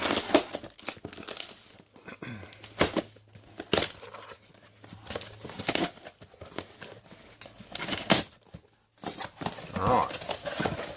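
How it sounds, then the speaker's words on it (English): Crinkling and rustling of cardboard and packaging with sharp snips and tearing, intermittent, close, with a voice talking in between. "I'll get my scissors out and we'll cut it open and see what's inside"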